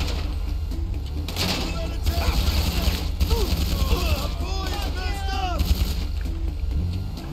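Gunfire during a heist mission in GTA 5 Online, rapid bursts of shots and crackling impacts over a low engine rumble, with someone talking throughout.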